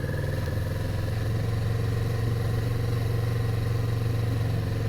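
A Kawasaki motorcycle engine running steadily while being ridden, with a loud, continuous low drone and mechanical clatter that holds throughout with no pauses.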